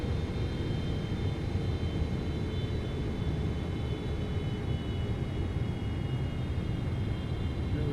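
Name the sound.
aircraft engine and flaps lowering in a flight simulator video game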